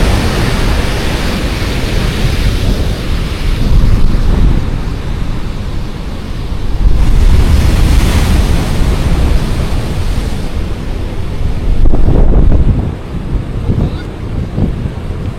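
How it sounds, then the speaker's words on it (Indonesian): Big ocean waves rolling and crashing onto Pantai Ayah beach in Kebumen, a steady broad roar with heavier surges swelling at intervals, mixed with gusts of wind buffeting the microphone. "Ombaknya gede banget guys,"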